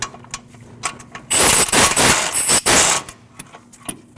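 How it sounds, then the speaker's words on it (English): Brake caliper bracket E20 bolts on a 2014-2023 Jeep Cherokee are loosened with a tool, loud close mechanical bursts in the middle, framed by a few lighter clicks and taps before and after. "When removing your caliper bracket, you can have 2 E20s bolts on the back side. You want to take those off."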